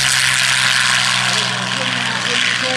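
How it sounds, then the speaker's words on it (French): A Yak-3 propeller warplane touches down at an airfield display, its engine a steady loud drone with broadband rushing, while a commentator talks over it. "Voilà, posé du Yak 3, un très beau posé."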